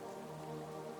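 Steady rain patters on leaves, a dense, even hiss of drops that holds at a soft level throughout with no voices.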